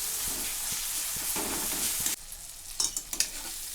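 Tomato masala with turmeric and red chilli powder being stirred in a frying pan for methi bhaji: a steady sizzle with soft scraping strokes, which drops away midway, leaving quieter spoon clinks and scrapes.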